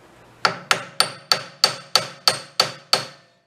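A hammer taps apart an old air compressor, nine sharp metallic strikes in an even rhythm, loud and close with short ringing decays and no talk.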